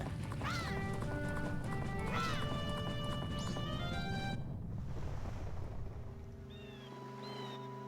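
Epona, Link's horse in the video game Zelda: Majora's Mask, gallops with rapid clip-clop hoofbeats over layered game music, then the pace thins as ocean surf takes over near the Great Bay Coast.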